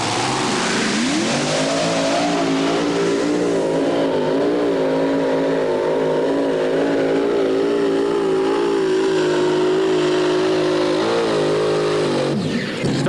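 A pulling tractor's engine roars through a competition pull run at a truck and tractor pull, a loud sustained howl that climbs and holds its pitch for most of the run before cutting off at the end, with no voices over it.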